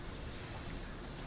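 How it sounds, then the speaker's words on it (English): Rain falling during a tornado warning, a dense, even hiss of steady downpour with no distinct drops or talk, faint and continuous throughout. "Allie, see it rain coming down?"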